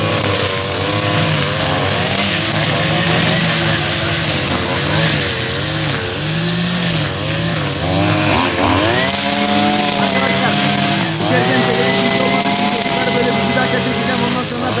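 Several STIHL chainsaws run loud and close during hazelnut season work, engines droning and revving continuously with shifting pitch; voices are heard faintly under the roar.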